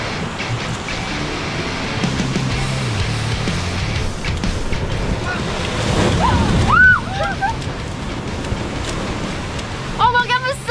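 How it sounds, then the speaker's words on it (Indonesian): Large ocean waves roll onto the beach at Pantai Madasari in Pangandaran, a steady broad roar of surf filling the whole stretch, with a brief surge midway and some faint voice-like squeaks near the end. "Ombaknya besar sekali dan saya sedang berada di Pantai Madasari"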